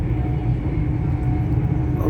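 Steady rumbling of a train in motion, heard from inside a carriage on a ride through green countryside, with continuous low rolling noise and no voices.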